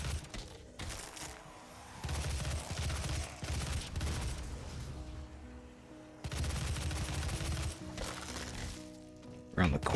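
Assault rifle in DOOM fired from the hip, with loud bursts of automatic gunfire in two long stretches separated by a brief lull, dense and close, with a final sharp burst at the end.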